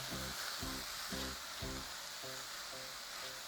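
Gochujang sizzles softly as it goes into a pan, giving a quiet, steady hiss with a faint pulsing hum underneath.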